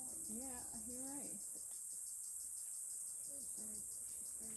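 A cicada in Madagascar keeps up a steady, high-pitched buzz through the whole stretch, with voices briefly talking over it near the start and again near the end.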